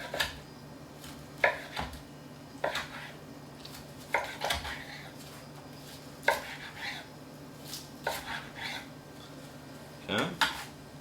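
A sharp knife slicing straight down through food for a Thanksgiving meal, each stroke a distinct chop against a board, spaced irregularly a second or two apart under a low background hum.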